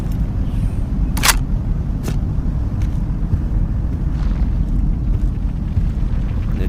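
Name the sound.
Mosin Nagant rifle shot in video game Into the Radius 2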